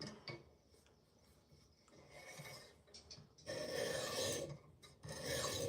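Knife blade scraped on a PDT sharpening stone, steady close rasping strokes, quieter at first and then louder and harsher in longer passes, with no voices.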